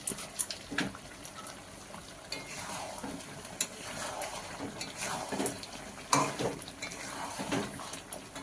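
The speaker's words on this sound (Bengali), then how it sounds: "এবারে মশলাটা কষিয়ে নেবো ভালো করে" A spoon stirs and scrapes spice masala with green chillies sautéing in a pan for a red chicken curry, irregular close clinks and scrapes over a faint sizzle.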